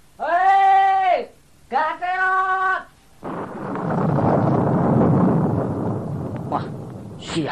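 Thunder from a storm in a children's radio-style story: two loud, drawn-out shouted calls come first, then a long, low rolling rumble that swells and fades.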